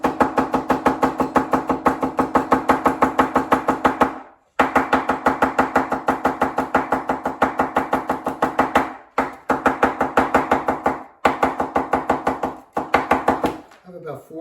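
A knife chops garlic cloves on a cutting board in fast, steady, even strokes, loud and close, pausing briefly a few times before resuming.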